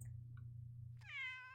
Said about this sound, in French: C'est un chat, ça? What did I just hear?